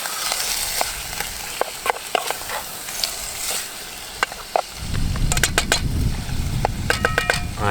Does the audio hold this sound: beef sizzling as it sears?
yes